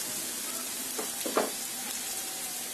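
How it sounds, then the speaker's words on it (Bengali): Ginger, garlic and onion frying in a pan, a steady close sizzle throughout, with a couple of faint stirring scrapes in the middle. "আদা রসুন আর পেঁয়াজটাকে একটু ব্রাউন কালার করে ভেজে নিতে হবে।"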